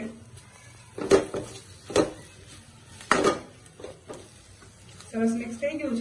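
A spatula stirs masala paste frying over a low gas flame in a pan for dahi bhindi curry, giving repeated close scrapes and clanks against the metal over a soft, steady sizzle.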